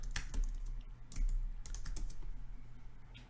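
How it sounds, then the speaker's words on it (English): Typing on a computer keyboard, with a quick run of close, light key clicks in an uneven rhythm over a low background hum and no voices. "So I'll just type in create your"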